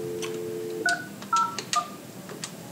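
Keypad tones on a Polycom VVX400 desk phone, a quick string of about six short dialing beeps following a steady tone, heard alone and fairly clear.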